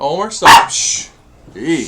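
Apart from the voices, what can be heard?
dog barking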